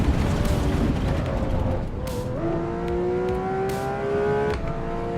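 The engine of a Ferrari F2004 F1 car in a racing video game screams at high revs, dropping briefly on a shift and then climbing again in a steady, loud whine.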